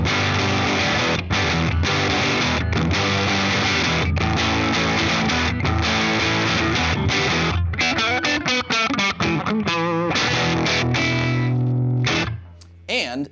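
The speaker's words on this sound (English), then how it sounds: "You can get those maxed out tube amp overdrive sounds without actually maxing out your amp." Electric guitar through a Supercool overdrive pedal drives a tube amp into saturated, maxed-out overdrive: loud, continuous riffing and sustained chords that break into quicker picked notes, then fade out at the end, with no voices.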